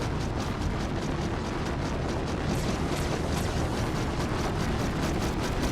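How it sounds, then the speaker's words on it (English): A ship under fire in the space game Star Citizen, with dense continuous roaring explosions and rapid bursts of impacts filling the whole stretch with loud, rumbling noise and no voices. "I know we're getting shot at here"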